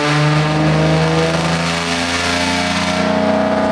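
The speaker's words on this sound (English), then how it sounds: "Yep, a true straight pipe, and trust me, the camera doesn't do the volume justice." A BMW E36 with a 3-inch straight-pipe exhaust from the manifold back revs hard and steadily. The raw, loud engine note holds strong low harmonics for several seconds and is heard alone, with no talk.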